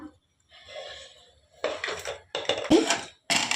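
A metal lid goes onto a pot of dal boiling on a home stove, with a few clattering knocks and one short ringing clink, separated by quiet gaps, all fairly close.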